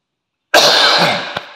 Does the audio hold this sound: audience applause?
no